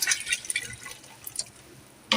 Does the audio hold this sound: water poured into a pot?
yes